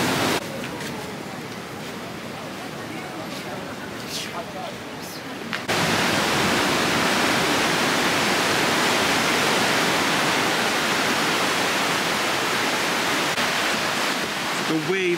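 Massive ocean waves crash on the shore in Bali, a broad steady roar that swells sharply halfway through and stays loud and close to the end.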